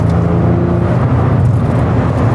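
Porsche 911 996 Phase 1 with a manual gearbox driving along, its engine giving a steady, loud, low droning hum that stays even throughout with no pauses.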